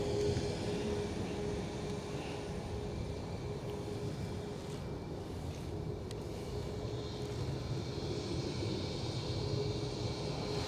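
Ryanair jet at an airport, its engine rumble a steady, broad roar held at moderate distance for the whole stretch, with no talk over it.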